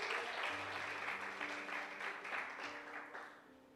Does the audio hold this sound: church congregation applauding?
yes